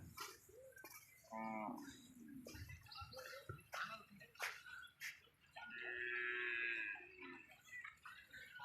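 Native cattle low repeatedly, with several long, drawn-out moos from different animals at varying distances near the India–Bangladesh border on a Padma river char. Outdoor noise and faint voices sit in the background.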